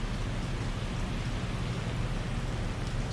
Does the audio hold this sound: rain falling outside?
yes